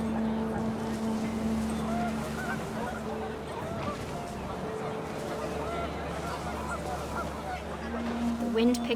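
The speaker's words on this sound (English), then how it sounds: "The wind picked up, and panicked geese appeared and quickly went." Panicked geese honking in the video game What Remains of Edith Finch, scattered calls rising over a constant wind-like outdoor bed, moderately near, with a narrator speaking over the scene.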